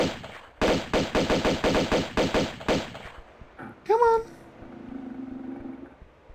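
Rapid machine gun fire from Tomb Raider 2 Remastered as a shark is shot, loud repeated bursts for about three seconds, followed by a short whooping game sound and a low rumble.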